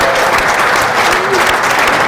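Sustained, dense applause from a crowd watching a four-wall handball pro match semifinal, steady clapping filling the arena for the whole moment with no clear pauses.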